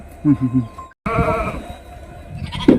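A three-month-old Bannur lamb of native cross breeding bleats up close on a small farm, with a short wavering call early on, then a louder cry near the end over background voices and farmyard noise.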